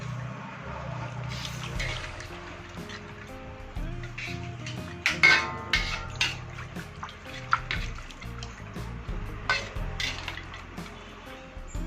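Stirring anchovies cooked in coconut milk in a metal pan for Acehnese kareng teuphep, with irregular scraping and clinking of a utensil against the pan over a soft bubbling, wet background.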